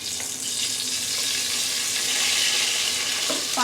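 Whole spices, bay leaf, cinnamon, cloves, cardamom and peppercorns, sizzling in hot mustard oil, a loud, close, continuous frying hiss with faint clinks and no talk.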